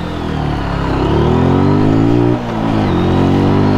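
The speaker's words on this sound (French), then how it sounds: "C'est bon, la moto avance pour le moment." A Zontes 125 motorcycle pulls away and accelerates in first gear, its engine rising steadily in pitch and loudness, dipping briefly as the throttle eases, then climbing again close to the rider with no talk.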